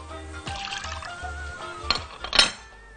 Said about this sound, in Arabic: عصير الليمون،